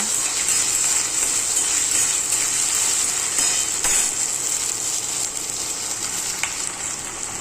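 Onion frying in oil until brown for a green-masala bean dish, giving a steady, loud, continuous sizzle close up, alone and unbroken for the whole stretch.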